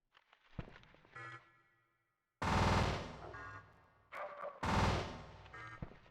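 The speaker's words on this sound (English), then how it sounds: "Who's shooting me like that?" Shots fired at the player in Shadow Tower, a few sharp cracks early on followed by two loud, sustained bursts of fire separated by a short quiet gap, with no talking.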